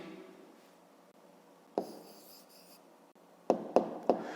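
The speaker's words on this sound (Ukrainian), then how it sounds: "Ну що ж, записуємо тоді відповідь." Pen or chalk writing out a math answer, quiet scratching strokes with a few sharp taps and short bursts of scribbling, close and alone in a quiet room.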